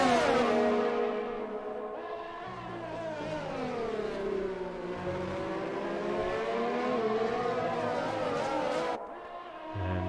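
Engines of race cars on the Sakhir circuit in Bahrain during a simulated Formula-style race, a steady high revving whine that climbs and falls through gear changes, with several cars droning together close by.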